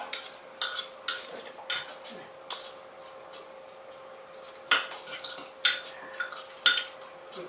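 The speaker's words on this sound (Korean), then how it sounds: "요거를 다 양념장을 만들어 놓을게요." Spoon clinking against a bowl while a Korean seasoning sauce of garlic, ginger and sugar for braised spicy chicken is mixed, a series of short, faint taps and scrapes with quiet gaps between them.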